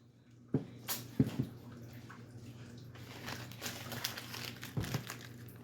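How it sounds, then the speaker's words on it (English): A strip of masking tape balled up by hand, giving a few sharp crinkling bursts separated by quieter rustling, close and fairly soft. "And take another piece of tape. Ball it."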